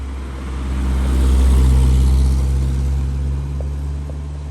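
A 1965 Toyota Corona cruises along back roads, its steady low engine drone and road rumble holding evenly throughout, swelling slightly in the middle without any talk.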